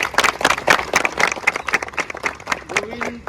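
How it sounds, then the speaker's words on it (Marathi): Lively clapping from a gathered group cheering newly selected police recruits, dense irregular claps close by for a few seconds that thin out toward the end. "त्यांच्यासाठी जोरदार टाळ्या."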